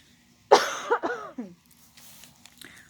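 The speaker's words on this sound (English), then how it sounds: "My throat got really dry, so I apologize for the coughing" A single harsh cough from a dry throat bursts out, followed by a few fading rasping coughs, then quiet with faint throat sounds.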